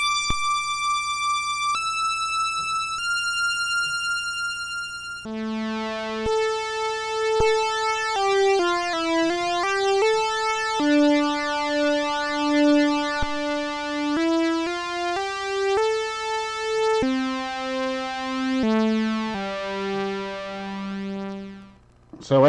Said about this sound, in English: And I'm just going to switch to a sawtooth wave here.